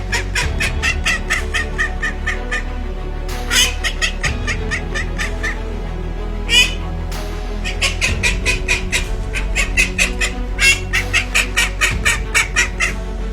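A racing duck at an extreme duck racing event squawks and quacks repeatedly in rapid bursts, loud and close, with short pauses between calls and no talking.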